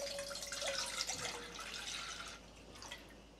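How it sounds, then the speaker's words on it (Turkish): Milk is poured into a pot for a semolina milk dessert, a close, steady liquid splashing and gurgling that eases off toward the end, with no talking. "500 ml süt ilave ediyorum."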